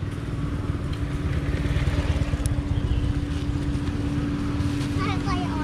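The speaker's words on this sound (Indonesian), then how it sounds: "Awas, ada motor." A motorcycle passes close by on a busy market street in Bangkalan, Madura, its engine droning steadily for several seconds, with faint voices in the background.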